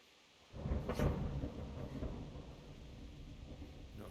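A low thunder rumble from a video game storm swells in suddenly and rolls on steadily, deep and broad, with a rain-like hiss underneath and no voices.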